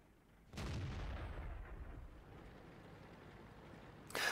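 A tank cannon fires in a tank video game, a single heavy boom followed by a long rumbling decay, with another sharp blast starting right at the end.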